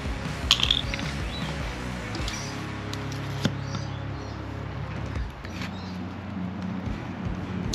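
A grease gun being screwed together with a Penrite grease tube fitted, close metallic ratcheting and threading clicks over a steady low background hum.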